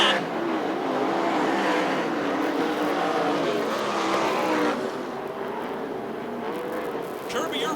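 USAC/CRA sprint cars racing around the Hanford, California track, a dense roar of engines sweeping past near and loud, easing slightly partway through, with an announcer talking over the noise.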